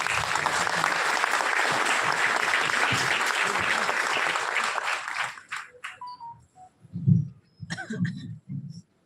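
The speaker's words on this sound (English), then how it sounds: "Please welcome Dr. S. Siddharth sir with a round of applause" An audience at a management institute event applauds to welcome a speaker, with steady, dense clapping that cuts off fairly abruptly and gives way to scattered coughs and faint room noise.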